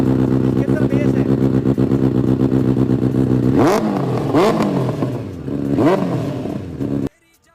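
A Benelli 600i motorcycle's exhaust is heard up close, first idling with a deep, steady burble, then blipped through three sharp revs to about 4000 rpm before cutting off abruptly.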